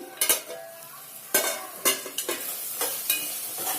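Ginger garlic paste fries in a pan beneath repeated metallic scrapes and clanks of a spoon stirring against the pan, several sharp strikes over a low sizzle.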